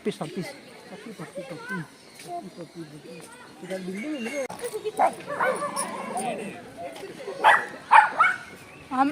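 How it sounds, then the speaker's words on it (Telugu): Puppies bark and yip in short, uneven bursts at a hill-station stop, close to the listener, with people talking and moving around them. "పప్పీస్"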